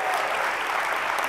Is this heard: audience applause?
yes